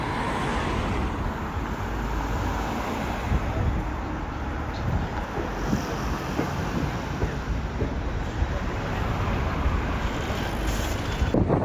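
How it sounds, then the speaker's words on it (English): Wind buffets a microphone on Tower Bridge in London, a loud, continuous roar mixed with distant traffic noise, with no one talking. "It's quite windy as well"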